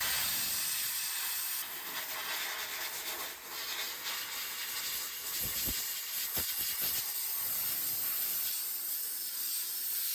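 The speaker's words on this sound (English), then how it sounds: "It's about this time I fire up the sandblaster." A sandblaster fires 80 grit aluminum oxide at a rusty VW Bus floor pan with a steady, loud, close hiss throughout, broken by a few low thumps and shifts partway through.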